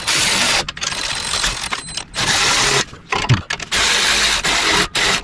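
A ratchet with a swivel socket tightens header bolts on a 1971 Firebird engine, loud rapid clicking in several bursts separated by brief pauses.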